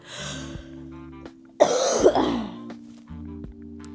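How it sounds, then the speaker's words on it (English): A single harsh cough with some throat clearing rings out in a quiet room, preceded and followed by a low, steady hum. "the cough is just so exhausting"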